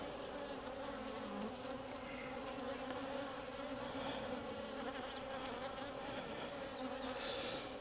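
Honeybees buzzing steadily and close during a beehive inspection in a bee yard, a dense continuous hum with no talk over it.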